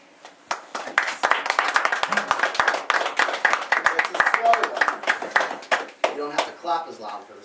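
A small audience claps at a live gig by The Homeless Gospel Choir, a crowded, uneven patter of hands that swells and then thins out. A few voices and cheers sound near the end.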